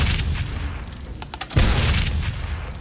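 A cinematic explosion effect for a moon blowing apart, with a loud low boom at about the midpoint that rumbles on and fills the rest of the clip, no speech.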